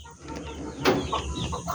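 A brooding SVR hen that is laying, giving a short, low, throaty cluck or two up close against faint farmyard background.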